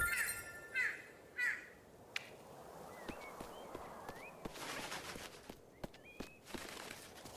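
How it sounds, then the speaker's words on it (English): Several crow caws ring out against a dark, rustling outdoor ambience in a horror video game, spaced irregularly with faint clinks and soft footstep-like taps between them. "Suspicious crows. There's a lot of crows."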